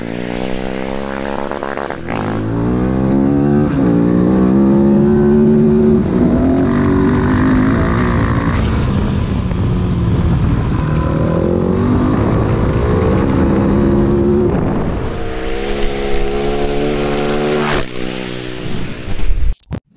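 A 1992 Harley-Davidson Sportster 883 is ridden, its engine loud and close, revving and rising in pitch through the gears, then easing off before revving again near the end.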